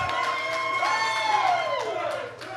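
Arena crowd at a USA Championship Wrestling event cheering and whooping steadily, with a sustained shout rising above the roar, continuous and loud for the whole stretch.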